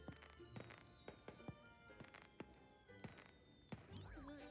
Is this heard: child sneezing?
no